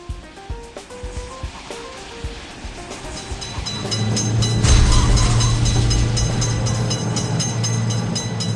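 A train rolls through a level crossing in Indian Train Simulator, its rumble building and growing loud from about four seconds on with a steady low drone and a sharp burst near five seconds, preceded by quieter clicks and tones.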